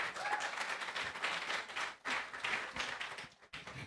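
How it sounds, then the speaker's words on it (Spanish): Applause from a crowd at a live event, a dense steady patter of many hands clapping with a couple of brief dips, moderately close. "otro aplauso, por favor"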